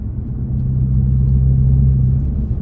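A car on budget Solowerks S1 coilovers rolls over a bumpy road with a steady, heavy low rumble of road and engine noise, a deep continuous drone with no talking.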